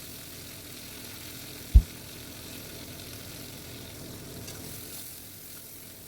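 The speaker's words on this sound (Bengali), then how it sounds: "ভালো করে মশলাটা কষিয়ে নিতে হবে।" A spice paste of tomato, ginger and cumin cooking down in a pan, giving a low, even sizzle with a single soft knock early on, close and quiet with no speech.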